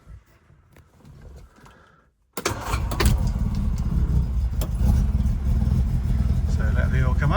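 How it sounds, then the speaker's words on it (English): A cold, un-prewarmed Lotus Cortina engine starts after a quiet stretch: faint ticks and clicks, then a sudden loud catch into a steady, rumbling idle that fills the rest of the recording up close. "so I haven't pre-warmed the engine at all. It just starts."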